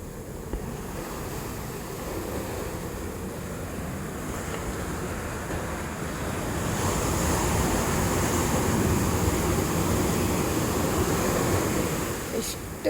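Ocean waves wash continuously onto the beach at Cheru Rock beach resort in Kannur, a loud, steady surf roar with wind buffeting the microphone and the wash swelling stronger midway.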